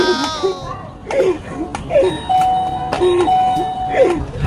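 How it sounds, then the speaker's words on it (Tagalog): A household doorbell pressed again and again by a child, its two-tone chime ringing out in several close, loud repeats with short gaps between presses. "Princess, tigilan mo yung doorbell namin."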